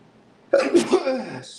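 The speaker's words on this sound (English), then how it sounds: "I gotta sneeze." A person sneezes once, a sharp burst that trails off quickly after a quiet moment.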